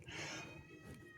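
A kitten meows insistently from behind a shut door, a drawn-out, whiny cry that is loud at first and then eases into fainter, wavering meowing, with no one talking.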